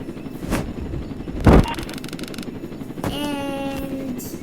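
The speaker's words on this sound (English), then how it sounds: "this is a rocket launcher" Rocket launcher fired in a video game, one heavy booming blast followed by a rumbling, whistling tail and a whining tonal sweep, loud over a constant noisy game background.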